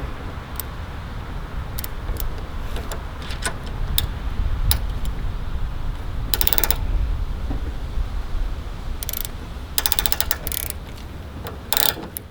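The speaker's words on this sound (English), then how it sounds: "grab some sort of pass-through socket or wrench and unloosen" Pass-through socket wrench working a bolt on a BMW M2 Competition during a brake and suspension install, giving a series of sharp ratcheting clicks in short bursts over a low steady hum of the workspace.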